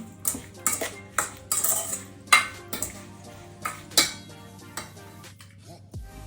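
Strawberries mixed into a bowl with a spoon, giving repeated clinking and scraping strokes of metal on the dish at an uneven rhythm, close and fairly loud, with no voice.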